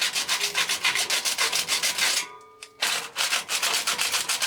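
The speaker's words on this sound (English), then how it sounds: "It's just going to be a case of getting in and scraping it off like that." Rust and corrosion scraped off the metal case of an old IBM ThinkCentre computer: loud, close, rhythmic rasping strokes in rapid succession, a short break partway through, then the scraping resumes.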